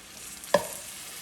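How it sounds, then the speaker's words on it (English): A single quick stir of rice in chicken stock and mushroom water inside a claypot, one brief scraping swish standing out against a quiet background. "after you've got the rice in there, give it one good stir."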